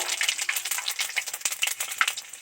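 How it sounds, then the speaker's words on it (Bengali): Panch phoron spices fry in hot oil with dried red chilli and bay leaves, the base for a rui fish curry. A close, steady crackling sizzle carries scattered small pops, with no voices. "পাঁচফোড়ন তো দিয়েই দিলাম, ভাজা ভাজা হয়ে গেছে"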